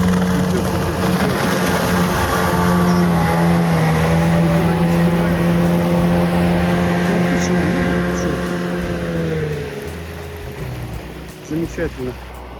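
Boat with a 9.8 or 18 hp outboard motor running through shallow water, a loud steady engine drone with shifting pitch that fades toward the end, voices faintly present.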